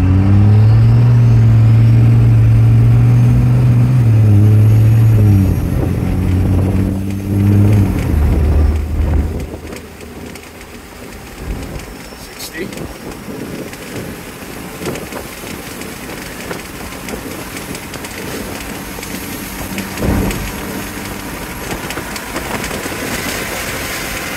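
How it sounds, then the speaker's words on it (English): A second-generation Ram Cummins diesel truck with an Allison 6-speed automatic accelerates at half throttle, its loud engine drone climbing then dropping as the transmission shifts, settling into quieter road and engine noise as it cruises; no talk. "I'm going to do about half throttle in drive"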